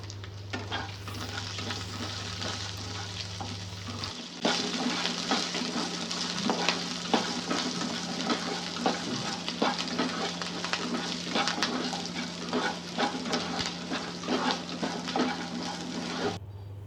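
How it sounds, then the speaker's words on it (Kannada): Green chilies, ginger, garlic and cumin fry in a pan with a steady, close sizzle, stirred continuously with scraping and clinking throughout, after a brief quieter stretch at the start. "ಹಸಿರು ಮೆಣಸಿನ್ಕಾಯಿ ಎಲ್ಲ ಚೆನ್ನಾಗಿ ರೋಸ್ಟ್ ಆಗುವಷ್ಟು ಚೆನ್ನಾಗಿ ಫ್ರೈ ಮಾಡ್ಕೊಬೇಕು"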